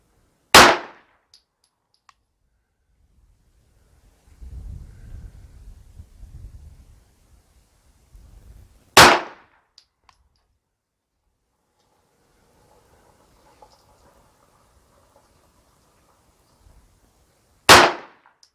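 Three sharp, loud 9mm Luger pistol shots firing 90 grain bullets, spaced about nine seconds apart with near silence between, plus faint rustling and handling noise in the gaps.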